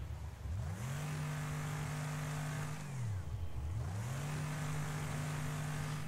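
Racing vehicle engines in the video game Wreckfest, including a truck: a loud continuous engine drone with two rising revs as gears shift, over constant crash-racing noise.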